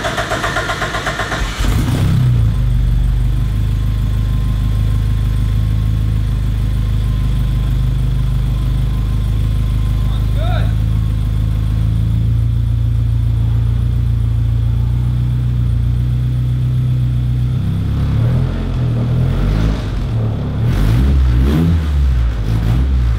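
A homemade amphibious reverse trike engine catches on its first start, settling into a loud, steady idle with a slight rise near the end, recorded close up.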